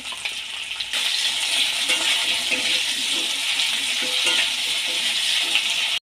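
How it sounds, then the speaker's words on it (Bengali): Cut potatoes dropped into hot mustard oil with a little salt, frying as a bright, steady sizzle that jumps up loudly after a second and then continues evenly, close by, with no talking. "তেলটা গরম হয়ে গেছে এবার আমি কেটে রাখা আলুগুলো দিয়ে দেব অল্প পরিমাণে নুন দিয়ে হালকা ভেজে নেব"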